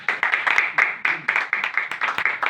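A church congregation claps loudly for Jesus, steady rhythmic applause from many hands filling the room throughout.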